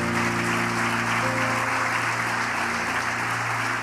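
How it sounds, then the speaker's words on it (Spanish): Church congregation applauding during a worship service, a dense continuous patter of clapping over a sustained organ or keyboard chord that holds steady throughout. "Un aplauso a mi Señor Jesús."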